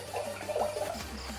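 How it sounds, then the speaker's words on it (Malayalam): Water from a bottle poured into a hot pot on a gas stove: a faint, short gurgling splash with a soft sizzling hiss, quiet and close, lasting about a second and a half. "ഇപ്പം ഞാൻ അടുത്ത കുപ്പി വെള്ളം ഒഴിച്ച് അങ്ങനെ ഇപ്പം നമ്മൾ 2 കുപ്പി വെള്ളം നമ്മൾ ഒഴിച്ചിരിക്കുന്നു."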